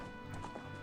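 Horse hooves clip-clopping in a Zelda video game, a steady patter of muted game footfalls running through the short moment at an even, moderate level.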